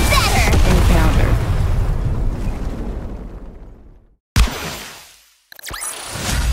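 A big firecracker boom from the game Nikke bursts loudly and decays over several seconds, followed by a sharp second pop and a swishing flourish.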